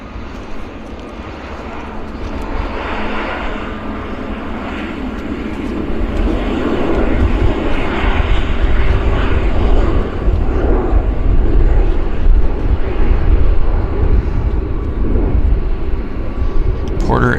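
A Porter airliner lands and rolls along the runway at Vancouver Airport, its engine roar swelling from a steady distant rumble to a louder sustained drone, with a commentator speaking over it.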